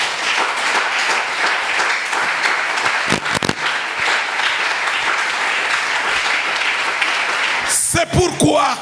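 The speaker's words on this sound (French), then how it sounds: "Est-ce que vous pouvez acclamer pour Jésus?" A church congregation applauds and cheers for Jesus in sustained, dense clapping with voices mixed in, brief sharp bursts near the middle, and the crowd noise breaking off near the end as a voice comes in.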